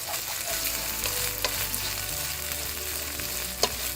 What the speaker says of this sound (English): Now you want to saute that on low flame for a few seconds.